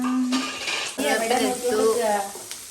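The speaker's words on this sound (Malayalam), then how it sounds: "നന്നായിട്ടൊന്ന് ഇളക്കി കൊടുക്കാം" A spiced coconut mixture with turmeric being stirred in a pan, steady scraping and light sizzling close by with a brief clatter of utensils and some background voices.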